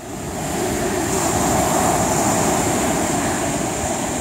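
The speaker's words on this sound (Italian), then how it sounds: "Lo volete sentire il mare?" Sea waves wash steadily and loudly at close range, a continuous broad roar of surf with no break and no voices.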